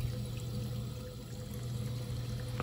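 Cold water runs steadily into a film developing tank holding a reel during the rinse stage, a constant close hiss and trickle without pauses.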